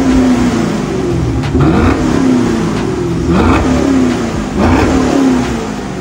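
A 2010 Chevrolet Camaro SS with a 6.2-liter V8 revs loudly close by, its exhaust rising and falling through several throttle blips in a steady, deep roar.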